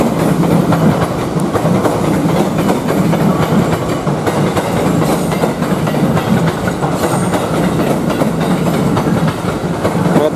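Passing train near a railway in Indonesia, with a steady, loud rumble and clattering wheels on rails that continue without a break throughout.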